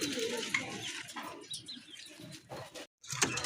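Pigeons coo softly in the background among a busy, noisy room tone, with occasional chirps and brief gaps.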